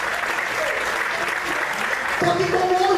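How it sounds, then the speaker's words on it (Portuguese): A church congregation applauds in a broad, continuous patter, and partway through a voice rises over the clapping, louder toward the end. "Você pode aplaudir e exaltar a Deus por isso."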